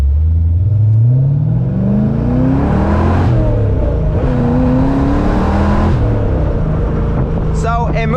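V8-swapped Mazda Miata accelerating hard from inside the cabin, the engine note climbing steadily through the gears with brief dips at shifts, loud and continuous throughout.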